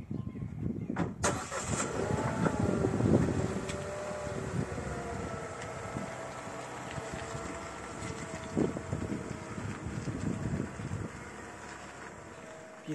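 A car drives toward moorland in Bavaria's Aischgrund area with a steady, moderately loud engine hum and road rumble, buffeted by wind noise against the microphone for the whole stretch and with no talking.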